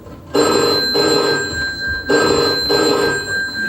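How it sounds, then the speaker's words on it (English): Old-style telephone bell rings loud and close in two long bursts with a short pause between them, a bright metallic trill with nothing else heard. "The phone rang"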